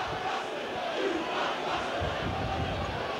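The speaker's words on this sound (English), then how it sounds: "The crowd in the south stand giving some stick" Rugby league crowd in the south stand at a Leeds versus Bradford Northern match shouting and jeering, a dense continuous roar of many voices filling the ground at steady loudness.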